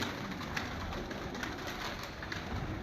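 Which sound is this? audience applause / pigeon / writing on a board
pigeon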